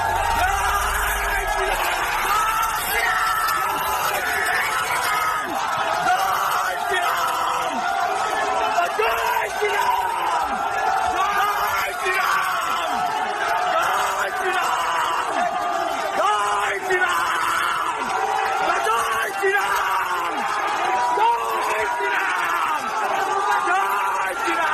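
A large crowd of Hindus surrounds a police van outside a court, keeping up a loud, steady roar of shouting, yelling and whoops for the whole stretch, with voices talking over the din.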